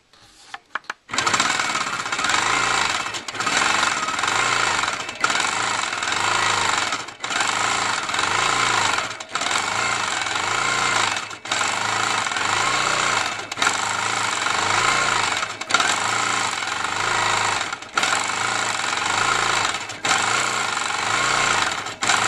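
Longarm quilting machine stitching feathers along a scalloped quilt border, a fast, close, steady mechanical rattle running in long bursts separated by brief pauses.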